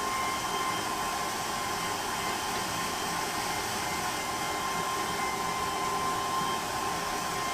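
A roughly 20-year-old hair dryer blows steadily and loudly throughout, a constant whooshing roar with a faint high whine and no pauses.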